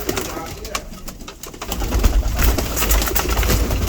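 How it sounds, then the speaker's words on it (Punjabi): Pigeons of an old bloodline coo in a loft. Soft, repeated calls come over a busy, rustling background with fluttering and handling noise. "ਦੇਖੋ ਵੱਡੇ ਵੱਡੇ ਪੁਰਾਣੀ ਬਲੱਡ ਲਾਈਨ ਦੇ ਕਬੂਤਰ"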